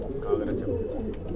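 A Patachap pigeon cooing close by in low, steady murmuring tones, with a voice speaking at the same time.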